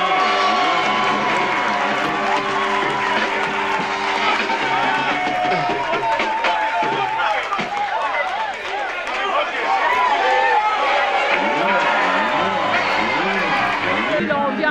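Large crowd in a stadium in Kinshasa cheering and applauding at a rehearsal concert, a dense, loud, continuous roar of voices and clapping with music underneath.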